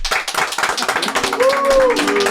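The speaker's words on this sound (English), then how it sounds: "Ladies and gentlemen, give a round of applause for Luke Kuechly." Studio audience clapping for former NFL linebacker Luke Kuechly, sharp rapid claps close by, joined briefly by a rising musical tone as the applause continues.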